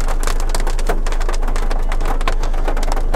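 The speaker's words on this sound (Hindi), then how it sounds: "इतनी दूर आने के बाद भी देखो बारिश स्टार्ट हो गई" Steady rain drums on a parked car at Sambhar Lake, a loud, dense patter of drops striking the roof and windows throughout, with no talk over it.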